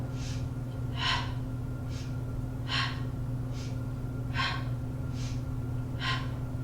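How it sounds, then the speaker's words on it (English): Steady breathing during a mat Pilates exercise, with about eight audible breaths alternating in and out in an even rhythm, close and soft over a constant low hum. "Inhale, exhale."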